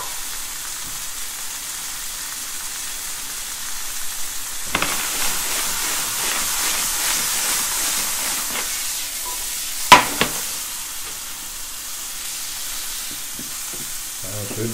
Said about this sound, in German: Zwiebeln mit reinschmeißen. Kann ruhig schön parallel braten.